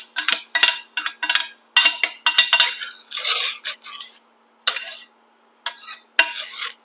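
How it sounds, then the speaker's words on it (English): A spoon stirs quinoa in a pot over high heat, giving a series of close, sharp scraping and clinking strokes in short irregular bursts separated by brief silences. "And let's just stir it a little bit to make sure that it's all mixed in."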